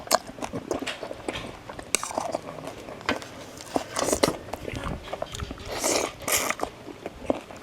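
Prawns are chewed close to the microphone, with wet crunching and biting throughout that comes in irregular bursts, and someone talks now and then between bites.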